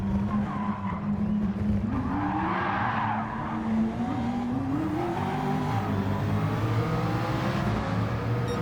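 A race car's tires squeal and skid in a long, continuous screech as it loses grip and slides toward the edge of the track in Gran Turismo 7, with the engine droning steadily underneath.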